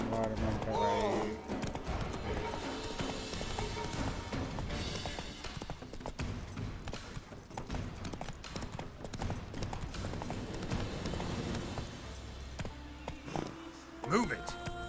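Steady clip-clop of Roach's hooves in The Witcher 3, a rhythmic trot running nearly the whole stretch at moderate loudness, with someone talking over it and a brief whinny-like call near the end.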